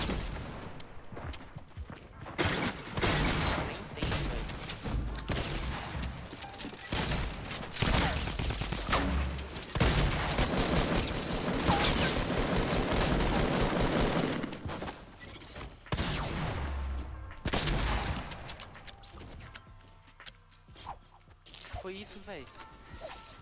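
Gunfire in a battle royale shooter, bursts of rapid automatic shots crackling through busy game noise, loud and dense in the middle, under excited voices talking over it.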